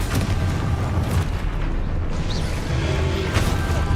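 Confringo spell blasts in the Hogwarts Legacy video game, a dense, loud burst of booming explosive noise filling the whole stretch with layered rumbles and crackling impacts amid chaotic combat.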